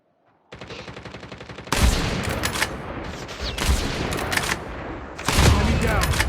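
Rapid automatic gunfire bursts from COD Mobile multiplayer, opening with a fast steady rattle and then louder, denser volleys that swell and fade several times, close and loud throughout.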